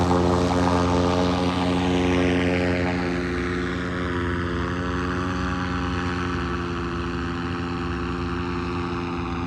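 A propeller aircraft lands at a landing zone near Phoenix, its loud droning engine close and continuous, with the pitch slowly shifting as it passes.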